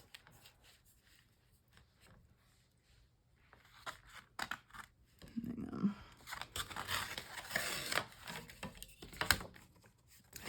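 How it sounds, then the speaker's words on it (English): Paper torn by hand for a butterfly junk journal, a few quick close rips and crinkles after a quiet stretch, with a voice speaking now and then. "Let's tear that."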